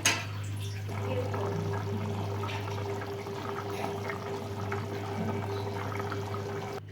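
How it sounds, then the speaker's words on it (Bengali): Water poured into a pan of spicy potato curry (aloo dum masala), a steady liquid rush and bubbling over a constant low hum of kitchen or stove noise, continuous throughout, with no talk. "সবজি মশলা প্রায় কষে এসেছে আমি এবারে জল দিয়ে দিচ্ছি নর্মাল জল আমি ব্যবহার করছি"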